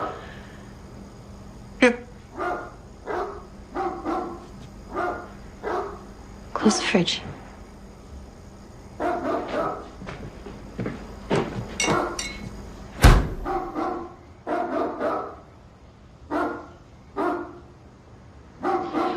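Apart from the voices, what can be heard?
dog barking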